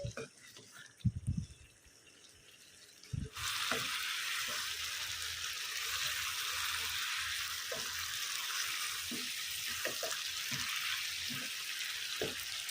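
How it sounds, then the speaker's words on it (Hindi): Chicken and kachnar flowers fry in gravy in a pan, starting with a few clanks and then settling into a steady, continuous sizzle with occasional stirring knocks. A voice speaks quietly over part of it. "चिकन के साथ इसकी अच्छे से भुनाई कर लेंगे ग्रेवी में तकरीबन 2 से 3 मिनट के लिए इस तरह से"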